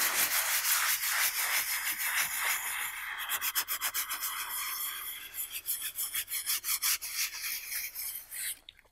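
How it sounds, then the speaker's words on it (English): Paint layers being scratched through with a tool down to blue paint underneath, a close, steady dry rasping and scraping that breaks into quick rhythmic strokes toward the end, with no voices. "So I'm scratching through to the blue paint."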